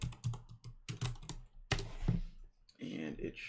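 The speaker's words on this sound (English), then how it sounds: "we're going to type in this command here" Computer keyboard typing a command during a SOC homelab setup, heard as bursts of quick, close key clicks separated by short pauses, with a stretch of softer, denser tapping near the end.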